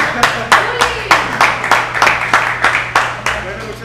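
Scattered hand claps from a small audience, rhythmic and fairly close, with a low steady hum underneath.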